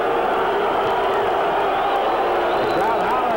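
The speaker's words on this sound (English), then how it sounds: "The crowd hollering for somebody to swing." Dense, continuous roar of a boxing arena crowd hollering and shouting throughout, a broad wash of voices with no pause.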